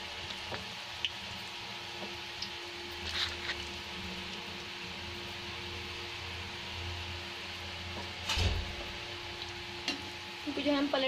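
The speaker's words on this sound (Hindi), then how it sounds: "इनको जो है अच्छे से फ्राई होने देंगे।" Bhalla lentil dumplings frying in hot oil give a continuous close sizzle with soft bubbling, broken by a few brief louder spatters and stirring knocks.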